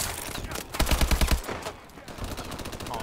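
Gunfire in Call of Duty: Advanced Warfare comes as a rapid automatic burst of close, loud shots, followed by scattered further firing and game noise.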